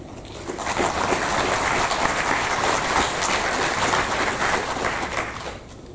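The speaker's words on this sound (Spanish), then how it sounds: "A ellos dos los recibimos con un voto de aplauso." Applause welcoming speakers at an anti-corruption conference, many hands clapping in a sustained, even roar that swells in and tapers off at the end.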